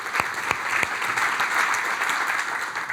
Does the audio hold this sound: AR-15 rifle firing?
no